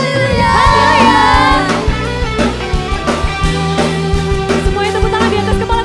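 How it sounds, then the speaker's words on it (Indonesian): A crowd of children cheers and shouts loudly at an Eaglekidz Voltage church kids' worship service in GMS Sumatera, the noise overlapping with music and rhythmic beats throughout. "Bisa ngasih sorak-sorai yang lebih lagi buat Tuhan"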